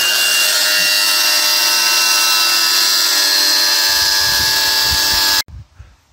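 A power tool fitted with a Parkside disc grinds loudly and continuously while working on a wall during a home solar panel installation, then cuts off abruptly and leaves a few low knocks.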